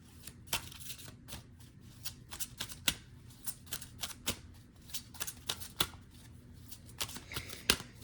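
Oracle cards are shuffled by hand in a steady run of crisp riffling flicks and soft slaps, close and fairly quiet, with no talking.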